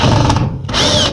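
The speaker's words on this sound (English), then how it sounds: "reverse position of the drill" A power drill running in reverse with a 1/4 driver bit backs a screw out of a Whirlpool Duet washer, a loud close whine that dips briefly and then surges again.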